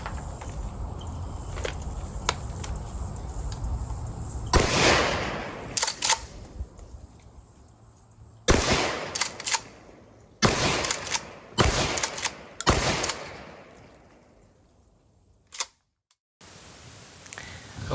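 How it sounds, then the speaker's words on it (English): Several loud, sharp blasts from a Remington 870 Express 20 gauge pump shotgun firing reduced recoil buckshot at an outdoor range, spaced irregularly with echoing tails and quieter handling noise between shots. "1 shot with the Remington reduced recoil at 10 yards"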